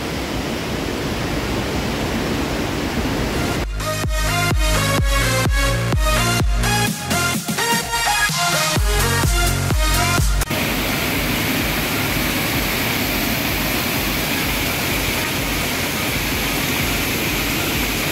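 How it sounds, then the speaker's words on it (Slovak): Waterfalls rush through a Pyrenees valley, a loud, steady broadband roar throughout, briefly overlaid midway by a patch of rhythmic music. "A teraz ideme cez takúto dolinu plnú vodopádov."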